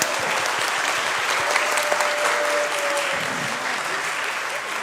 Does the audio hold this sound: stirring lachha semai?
no